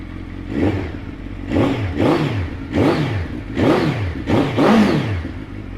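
A 2017 Suzuki GSX1300R Hayabusa 1300cc motorcycle fitted with a Yoshimura exhaust idles loudly and close by, then gets a series of about six sharp throttle blips, each rev rising and falling back to a rumbling idle.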